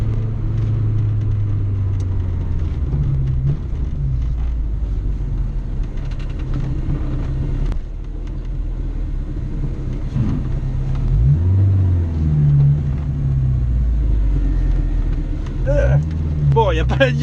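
Peugeot 205 GTI youngtimer hot hatch, 1.6 or 1.9 petrol engine, revving and pulling hard on the road, a loud, gruff mid-range drone rising and falling with throttle, heard from inside the car alongside someone talking.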